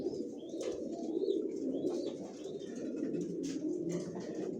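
Racing pigeons coo in a loft, a soft layered murmur of repeated low coos from several birds nearby, with faint chirps above and no talk.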